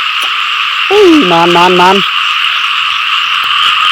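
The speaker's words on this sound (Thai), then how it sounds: "บางอย่างในบาซีกะเห็นกบอันนี้ 2 ตัวเนาะ ตัวผู้กับตัวแม่เนี่ยมันอยู่ในน้ำนี่แหละ" Two frogs, a male and a female, sitting in water give one clear run of rapid croaks lasting about a second over a steady insect drone, with a brief word spoken nearby.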